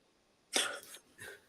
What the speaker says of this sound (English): I had a huge ass sneeze